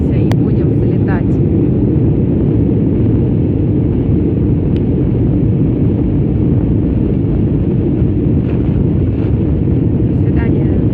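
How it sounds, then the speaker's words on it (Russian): A passenger airplane accelerates hard down the runway for takeoff, a loud, steady, broadband engine roar filling the cabin, constant and unbroken with faint clicks and rattles on top. "Сейчас мы жестко-жестко разгоняемся и будем взлетать."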